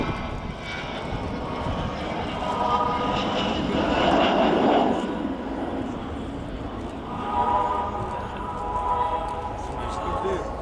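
Avro Vulcan XH558 jet bomber in a flying display at an airshow, its engines a broad steady roar that swells in the middle and again near the end, with a voice talking over it throughout.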